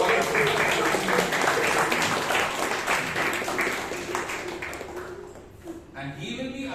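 An audience at a Toastmasters club meeting in Bangalore breaks into a dense patter of clapping that gradually thins and fades, with voices talking over it.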